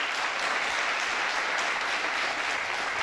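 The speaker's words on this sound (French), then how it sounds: "Applaudissez-la" An audience claps steadily at a beauty pageant, a dense burst of applause at full strength from start to finish.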